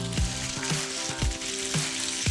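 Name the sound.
food sizzling while frying in a pan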